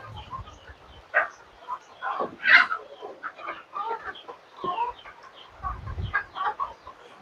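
Chickens clucking at feeding time on a farm, a scatter of nearby clucks and short squawks at an uneven pace, with light rustling around them.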